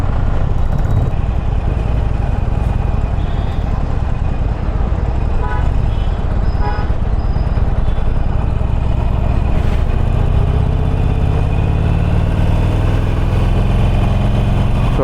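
Loud, close idling engines of motorcycles and cars in traffic held up by police, with a steady rumble and a few short horn toots, under a constant roadway hum.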